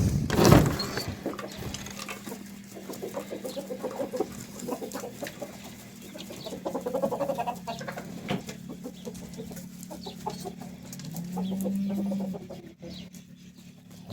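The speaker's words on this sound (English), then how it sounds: "Sure do have a lot of roosters." Chickens and roosters emerging from a farm coop: a rooster crows once near the start, then scattered clucking and soft fowl calls continue at moderate distance over a steady low hum, without talk.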